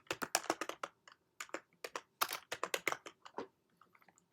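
Rapid typing on a computer keyboard, close and clear, in quick bursts of keystrokes with short pauses between them and no talking.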